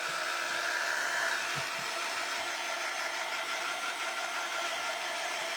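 A hair dryer blows steadily for a few seconds while drying a handmade Valentine trinket dish, its loud, continuous whooshing roar holding an even pitch with no voices over it.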